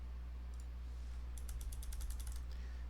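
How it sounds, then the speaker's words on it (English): Computer keyboard arrow keys pressed while moving a shape in Tinkercad, a quick run of about ten light, close clicks after a couple of isolated taps, over a steady low hum. "you can use your arrow keys to move"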